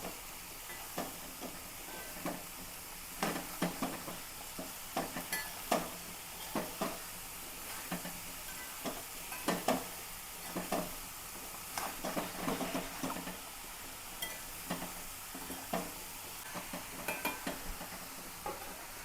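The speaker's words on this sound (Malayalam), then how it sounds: "നാടൻ പീച്ചിങ്ങ കണ്ടപ്പോൾ മേടിച്ചതാണ് നന്നായിട്ട് ഇളക്കി കൂട്ടാം" Ridge gourd frying in a pan is stirred with a utensil, giving irregular scraping clicks and knocks over a soft sizzling hiss, close and fairly quiet, with no talking.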